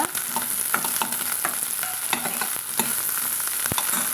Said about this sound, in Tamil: இதையும் சேர்த்து இது கூடவே வதக்கலாங்க